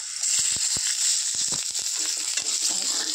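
Raw green chillies dropped into hot oil in a frying pan, a bright steady sizzle with a few sharp crackles and pops as they land, close and continuous.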